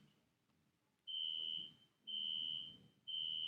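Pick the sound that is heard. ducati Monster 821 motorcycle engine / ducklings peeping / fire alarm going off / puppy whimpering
fire alarm going off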